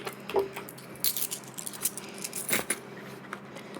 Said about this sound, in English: And I have some coins here as well, so let's just drop them into the pocket as well.